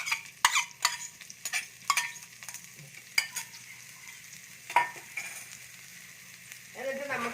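Two long-sliced onions sizzling in hot oil, a soft steady fry under a series of sharp stirring clinks and scrapes of a utensil against the pan, with the sizzle swelling near the end.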